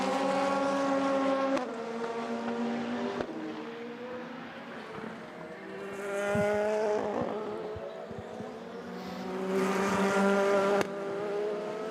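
A Ferrari race car at the Le Mans 24 Hours, delayed after a left-rear suspension failure, revs and pulls away down the pit lane. Its engine note rises and falls through several gear changes, loud and close, with no voices.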